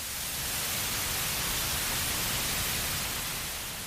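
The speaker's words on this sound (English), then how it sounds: "Let's listen to an example of white noise." Steady, hissing broadband noise fills the whole stretch, even and unchanging like static, with no other sounds.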